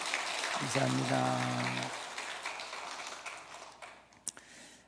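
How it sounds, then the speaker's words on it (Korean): A church congregation gives a short round of applause during a Sunday service, quiet clapping fading out over a few seconds while someone speaks over it. "박수 한번 해주십시오."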